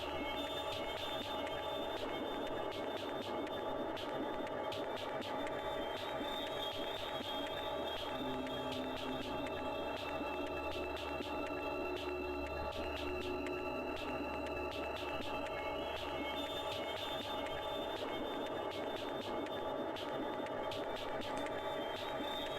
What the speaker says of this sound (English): As we just hear all this white noise.